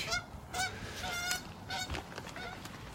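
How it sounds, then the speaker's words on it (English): A flock of geese honks loudly behind the listener, a series of sharp repeated calls spaced out over a few seconds, with no voices. "some noisy geese behind me"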